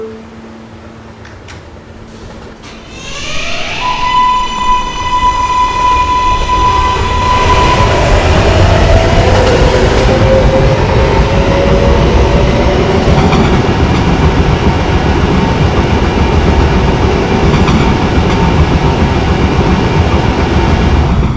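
An R143 subway train pulls away and runs at speed, opening with a rising motor whine and settling into a loud, steady rumble with rail clatter, close and continuous.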